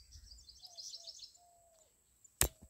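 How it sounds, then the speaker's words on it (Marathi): Countryside birds near rice fields in Konkan call faintly at a distance, thin high chirps and a few short whistled notes, ending in a sharp close click; no talk. "प्राण्यांचे पक्ष्यांचे आवाज."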